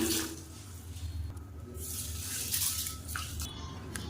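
Water sloshes and swishes in a bowl as horse gram lentils are rinsed by hand, soft and close, with faint splashes.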